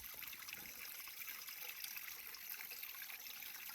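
Water sloshing and trickling in a gold pan during prospecting on the West Coast of New Zealand, a steady close, soft liquid swirl with continuous dribbling and no voices.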